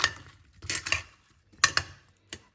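A spoon stirring a mixture with half a lemon squeezed in, for easy strawberry verrines: a few separate clinks and scrapes of metal against a dish, in short bursts with pauses between them.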